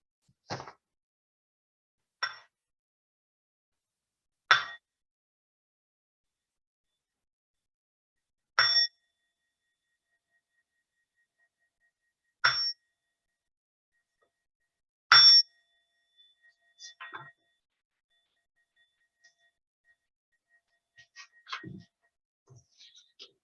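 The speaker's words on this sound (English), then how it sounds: "I will get started with waking the bell." A meditation bell is rung at the start of a Buddhist liturgy, with about six clear, bright strikes spaced several seconds apart. Each strike rings out briefly in a quiet room, and a few softer taps and small noises follow.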